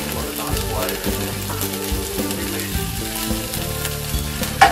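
An anchovy frying in olive oil in a cooked-down zucchini mixture, giving a loud, dense sizzle with crackling and stirring scrapes throughout and a brief clatter near the end.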